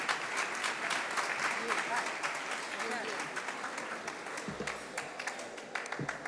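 An audience at a leadership celebration event gives a sustained round of dense applause that fills the room steadily before tapering off with a few final claps.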